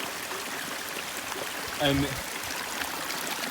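A stream flows and trickles at the top of Threlkeld Falls in the Lake District, a steady close babble running throughout, with a brief spoken word cutting across it midway.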